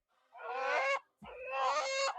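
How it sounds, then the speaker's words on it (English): Two loud, harsh honking squawks from farm birds called chickens, close by with a short gap between calls, sounding goose-like, alone without talk. "Follow the loud chickens."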